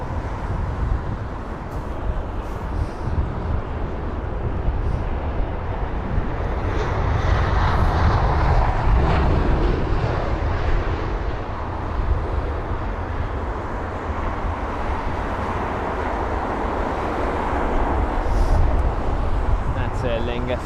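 An 18-year-old Airbus A320ceo arriving at London Heathrow, its broad engine roar filling the whole stretch, swelling midway and holding loud and close throughout.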